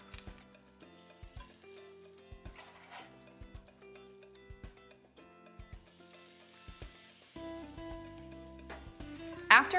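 Chicken breasts fry in oil in a pan with a faint, steady sizzle, broken by clicks and light utensil taps, while soft music plays throughout.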